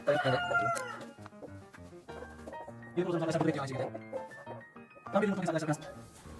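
Ornamental hens cluck busily and a rooster crows loudly in bursts, with a person talking over the noise on an ornamental chicken farm during egg collecting.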